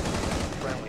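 Gunfire in the game Rainbow Six Siege comes as a short, dense burst of loud blasts in quick succession, filling the whole moment.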